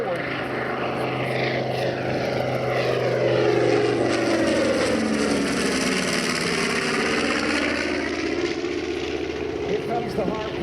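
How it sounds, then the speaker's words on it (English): A North American B-25 twin-engine WWII bomber flies past, its loud propeller engines droning and swelling then shifting pitch as it passes, with someone narrating over the roar. "twin-engine bomber built by North American Aviation"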